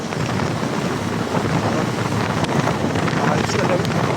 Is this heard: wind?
yes